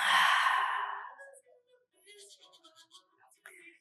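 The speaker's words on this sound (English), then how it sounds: "Deep breath." A deep breath released in one long, airy exhale close to the microphone, followed by quiet murmured talking.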